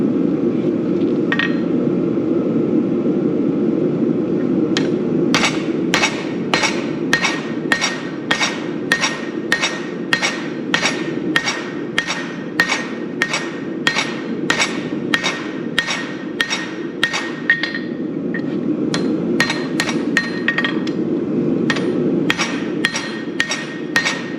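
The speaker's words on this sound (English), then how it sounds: "I don't use this big a hammer on everyday forging" A large hammer strikes hot metal on an anvil in a steady, rapid rhythm while forging pickup tongs by hand, ringing sharply with each blow, close and loud over a low background hum.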